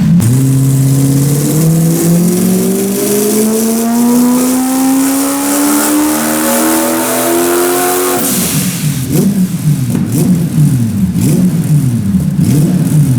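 A turbocharged 1UZ V8 in a 200SX on a dyno, the throttle held open under load so the engine note climbs steadily and loudly, then breaks into repeated rising and falling surges as the throttle is flipped.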